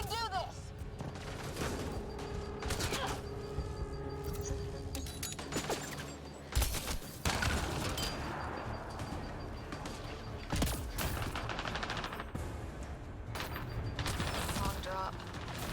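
Rapid sci-fi gunfire in the video game Mass Effect: Andromeda, sustained bursts and impacts layered over a busy, loud battle mix of effects and music, with voices shouting during the firefight.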